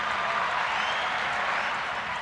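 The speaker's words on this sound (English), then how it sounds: "let me give a round of applause to him" Steady, dense crowd applause fills the whole stretch at an even loudness, broadband clapping with no breaks and no voices over it.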